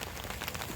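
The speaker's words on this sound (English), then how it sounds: "It's a rainy day today." Rain falls on a rainy day in Tallinn, Estonia, a steady close hiss of drops hitting surfaces, heard alone with scattered, slightly louder patters.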